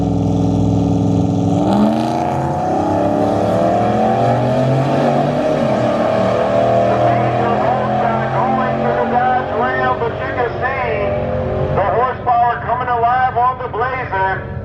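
A Dodge Ram 1500 pickup drag races down the strip, its engine revving hard and climbing through gears in a loud, sustained roar with shifting pitch, while an announcer talks over it.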